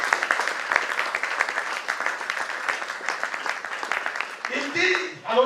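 A church congregation at a Sunday service applauding, a dense, steady wash of clapping from many hands lasting several seconds, with voices rising near the end.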